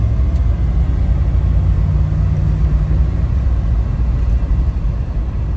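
A 1960 Cadillac DeVille cruises along a road on a cold Colorado morning, giving a continuous low rumble of engine and tyre noise from inside the car with no voices.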